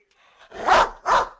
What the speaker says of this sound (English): that's my dog, Zach.